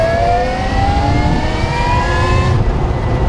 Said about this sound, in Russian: Даем первую передачу и смотрим разгон.